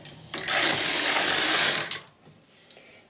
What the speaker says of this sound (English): I'm going to knit one row